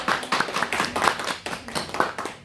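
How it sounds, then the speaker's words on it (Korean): A church congregation claps together in welcome for newly registered members at a year-end service, with rhythmic, fairly close hand claps that come in uneven bursts of a few people at a time rather than a full ovation. "박민준이랑 우리 한번 환영의 박수 한번 하도록 하겠습니다"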